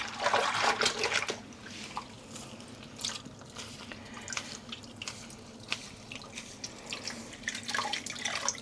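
Dyed cotton yarn skein being rinsed in water, with soft dripping and trickling splashes, a brief louder swish at the start, then scattered close drips and sloshes.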